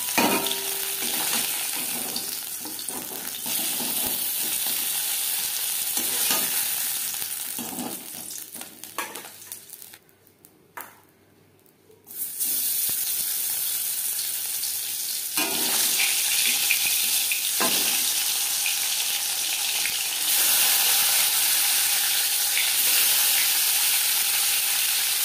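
Latha fish frying in oil in a small wok for a mankochu curry sizzles loudly and constantly with stirring scrapes, drops away briefly for a couple of seconds midway, then returns to a strong steady crackle.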